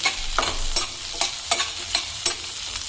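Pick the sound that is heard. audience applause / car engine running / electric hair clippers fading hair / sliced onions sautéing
sliced onions sautéing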